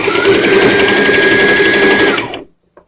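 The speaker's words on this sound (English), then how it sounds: "we're going to stitch this back" A sewing machine runs a steady back stitch on a simple skirt dart, its fast, even motor whir loud and close for about two seconds before stopping, followed by a single faint click.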